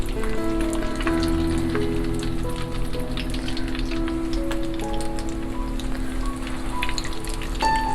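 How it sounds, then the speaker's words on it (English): Falafel balls of ground chickpeas deep frying in hot oil over a medium-high flame, a steady close crackling sizzle with dense popping bubbles that runs unbroken throughout, with no talking. "Fry these guys on a medium-high flame at least for 5 minutes, and it's a deep fry."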